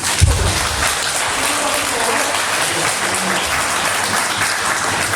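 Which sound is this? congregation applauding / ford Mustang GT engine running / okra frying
congregation applauding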